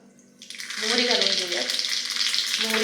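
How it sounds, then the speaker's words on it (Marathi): Seeds for a tadka dropped into hot oil in a small tadka pan, a sudden loud burst of sizzling and crackling that starts abruptly and keeps going strongly, with no voices. "छान तडतडली"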